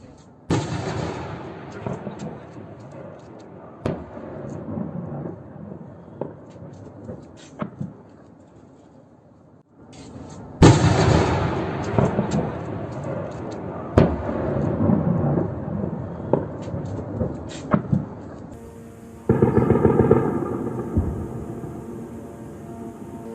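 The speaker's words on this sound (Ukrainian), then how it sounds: "Місцеві жителі не встигали рахувати вибухи вибухи." Several heavy booms from drone strike explosions in Russia's Voronezh region sound at intervals, sharp onsets followed by long rolling rumbles, distant but powerful, with a lingering low roar between blasts.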